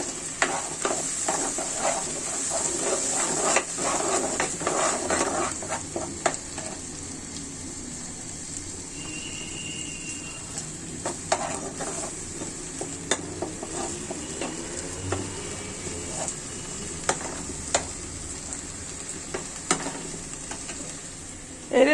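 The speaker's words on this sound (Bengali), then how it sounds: "এটা এখন আমি কষিয়ে নিব মশলার সাথে ভালো করে" Bottle gourd peel sautéed with spices in a pan for a rohu fish curry: a steady frying sizzle broken by repeated scraping and clinking stirs of a spoon against the pan, no voices.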